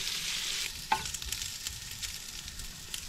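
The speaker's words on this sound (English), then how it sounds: "Let things cook up a little bit." Shrimp and garlic fry in avocado oil, giving a soft, steady sizzling hiss close by, with one sharp utensil tap near the start and faint crackles throughout.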